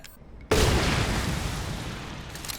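A single heavy blast from a thrown grenade in the horror video game Resident Evil Village, booming loudly and then rumbling and decaying over a couple of seconds.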